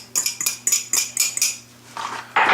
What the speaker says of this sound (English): I'm going to mix that around in here.